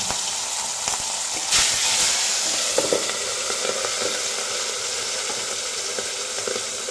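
Fish heads fry in a pan of hot oil, giving a steady, close sizzle with occasional sharper pops and a brief louder burst early on, and no one speaking.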